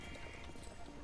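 Horse hooves clip-clop steadily at a walking pace beneath a low background murmur, modest in level and fairly close, with no voices standing out during the brief stretch.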